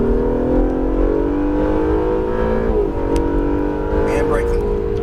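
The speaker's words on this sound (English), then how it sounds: "And now we're going to unwind, accelerate up." Acura NSX accelerating on a track, the engine note climbing steadily in pitch under continuous loud interior drone, briefly dipping as it shifts before rising again, with a voice talking over it.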